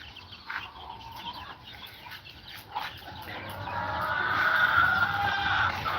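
Rhode Island Red chickens cluck on a farm, several birds close by, with a steady bed of farmyard noise that swells toward the end.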